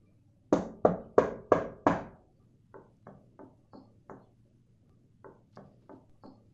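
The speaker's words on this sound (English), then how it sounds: "the loud knocking sounds on a wooden door and soft knocking sounds on a wall" Five loud, sharp knocks on a wooden door in quick succession, then two sets of four softer, duller knocks on a wall, each set spaced apart with quiet between them.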